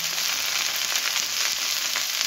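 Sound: onion and green chilies frying in pan

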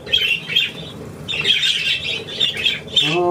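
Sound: seagull squawking

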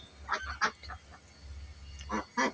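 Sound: duck

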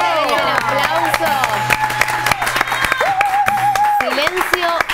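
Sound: audience applause and cheering

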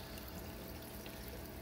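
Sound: water flowing out of aquarium filter into tank

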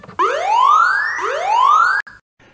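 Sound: siren from custom bomb drop sound on RadioMaster Zorro radio

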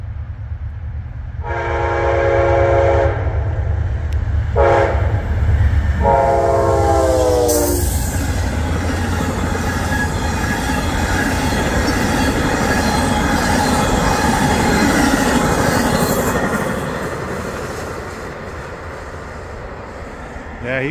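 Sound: train passing with horn on CSX railroad tracks

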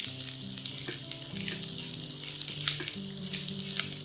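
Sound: tossing and stir-frying chilli mushrooms in a pan on high flame

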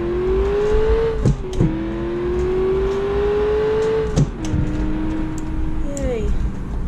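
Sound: car engine revving after a gear shift in the video game BeamNG.drive

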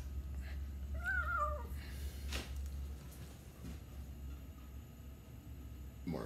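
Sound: cat meowing

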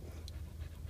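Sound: dog panting

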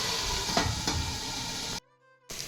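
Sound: brinjal and tamarind frying in oil in a covered pan

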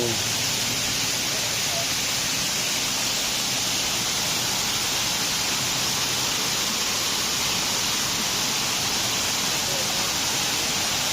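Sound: waterfall

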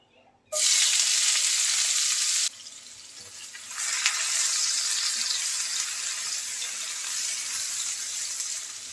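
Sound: chopped onions frying in oil

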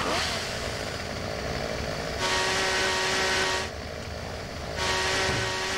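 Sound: chainsaw running in the video game Silent Hill 4

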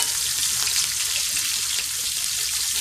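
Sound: garlic sizzling as added to hot oil

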